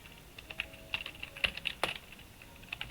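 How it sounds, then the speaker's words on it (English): Keys clatter on a computer keyboard in quick, irregular bursts of clicks, close and moderately loud with no voices. "So we'll just type it out again."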